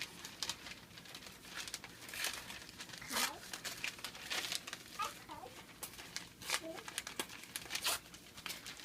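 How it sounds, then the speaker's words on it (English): Newspaper strip torn by hand from a double layer, giving a crisp crinkling rip with several short bursts of paper noise close up, and a person talking quietly in between. "we're going to tear it right about there"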